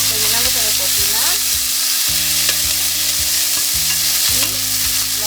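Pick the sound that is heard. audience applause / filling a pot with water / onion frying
onion frying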